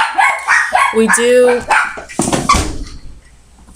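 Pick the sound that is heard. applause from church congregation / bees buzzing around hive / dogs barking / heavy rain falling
dogs barking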